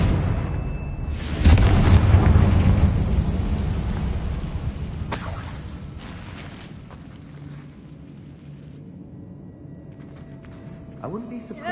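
A Confringo fire spell exploding in Hogwarts Legacy, one loud booming blast that rolls on and slowly fades over several seconds, with a faint rumble trailing after and a voice heard before it.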